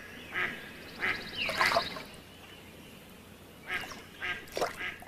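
Ducks quack in short bursts, a cluster of calls early on and another group near the end. The calls are fairly close, with quiet outdoor ambience between them.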